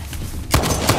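Gunfire in Uncharted: The Lost Legacy, a sudden burst of rapid loud shots starting halfway through after a low murmur, with sharp repeated cracks close by.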